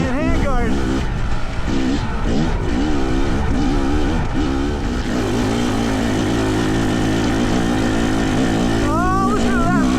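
A Fantic XE300 dirt bike engine revs loudly and close, its pitch climbing and falling through repeated throttle blips and sustained runs, with a voice talking over it.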